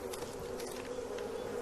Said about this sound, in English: It's hidden deep in the tree, protected by hundreds of angry African bees.